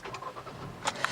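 A 2018 Kia Rio EX engine cranks briefly with the key and catches, a short starter whir followed by the engine firing, close and moderately loud.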